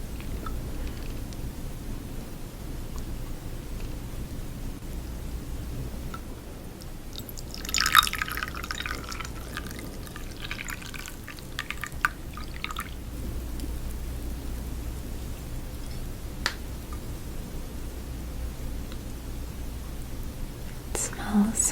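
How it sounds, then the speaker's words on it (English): Tea poured into a cup in a cozy cabin during a rainstorm, a brief liquid trickle rising over soft steady rain and scattered drips, with quiet whispered talk around it. "Pour a little bit for myself too."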